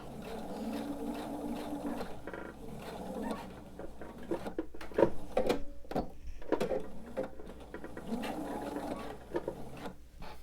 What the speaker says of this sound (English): I want to go ahead and sew till I get right to this line and then take a couple back stitches